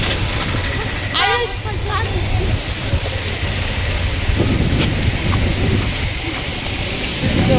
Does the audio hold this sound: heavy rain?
yes